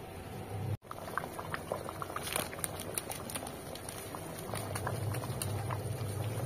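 Food boiling in a pan over a gas flame, close and quiet, with a steady bubbling simmer and scattered small pops and ticks.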